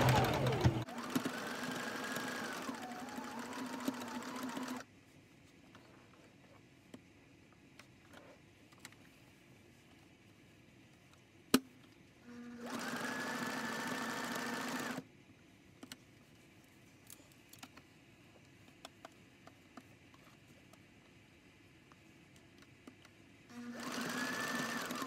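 A sewing machine stitches embroidery numbers on a baby blanket in three separate loud bursts of steady whirring, broken by quiet pauses with faint clicks and handling noises.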